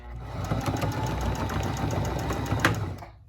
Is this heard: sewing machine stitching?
yes